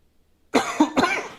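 A single close, sharp cough bursts out after a moment of silence, followed by a second cough and some throaty rasping, loud and alone with no talk.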